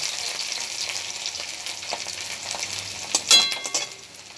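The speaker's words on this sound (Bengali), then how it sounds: "এবার আমি দিয়ে দিচ্ছি ক্যাপসিকামগুলো সুন্দর করে নেড়ে চেড়ে একটু ভেজে নেব।" Capsicum frying in hot oil in a pan while being stirred, a bright hissing sizzle with a burst of louder spatula scraping and clatter near the end, close up with no voices.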